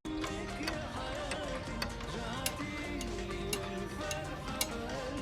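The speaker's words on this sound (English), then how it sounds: "That's a lot of clocks." Many clocks tick together in television sound design, a dense layer of overlapping ticks with a few sharper, louder clicks standing out at intervals over a steady background hum, heard at moderate distance.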